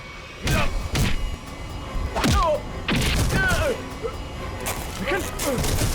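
Blows land in a fight scene from a Hindi TV crime drama: several loud thuds and whacks in quick succession, mixed with grunts, shouts and talk.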